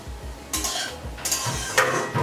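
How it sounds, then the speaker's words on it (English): A utensil stirs bhindi (okra) with tomato slices, turmeric and cumin powder in a pan, four scraping strokes about half a second apart over a soft sizzle and low hum, close up, with no talking. "Stir it"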